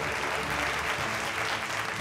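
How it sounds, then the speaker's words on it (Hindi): Loud, steady applause from a conference audience honoring Health Minister Dr. Prabhuram Choudhary at the Lifeline Conclave on health issues, a dense continuous wash of clapping throughout. "एक बार जोरदार तालियां डॉक्टर प्रभुराम"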